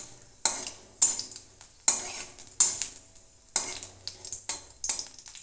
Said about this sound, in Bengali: তেলে দিচ্ছি একটা শুকনো লঙ্কা আর 5 ফোড়ন